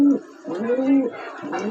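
Pigeons coo in a loft of Dobaj-line birds, with low, rounded, throaty coos repeating in a steady run from close by and no one talking over them.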